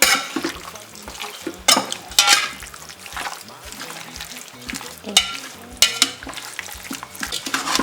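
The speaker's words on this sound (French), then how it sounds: "Voilà, on mélange bien." A spoon stirs a lamb briani mixture of mint, tomato, garlic, ginger and onions in a pot, making repeated scraping swishes and soft clinks over a low sizzle, in irregular bursts, close and clear.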